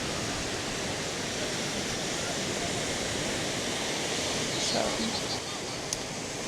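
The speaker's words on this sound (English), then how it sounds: "when you by the beach, it's more windy, but it feels good right now." A windy beach gives a steady broadband roar of wind and ocean surf, constant and enveloping, with a brief spoken word near the start.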